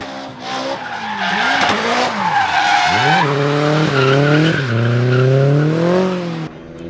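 A car on a race track squeals its tires in a long skid, loud and close, with sweeping tire squeal and engine tones rising and falling for several seconds and no talk over it.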